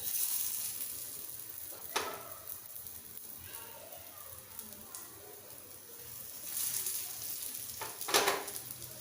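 Kebabs frying in ghee in a hot pan, giving a soft, steady sizzle with brief louder crackles and spatters as pieces settle, fairly quiet throughout with no voices.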